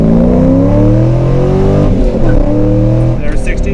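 A 20-year-old Corvette launching from a stop and accelerating hard, a loud, close engine note rising steadily in pitch and dropping at a gear change, with speech over the roar.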